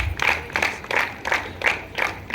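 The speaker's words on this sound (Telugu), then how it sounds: "give him a big claps to mister Narsanna" A school farewell crowd claps for Mr. Narsanna in rhythmic unison, with about six evenly spaced bursts of clapping heard at a moderate distance.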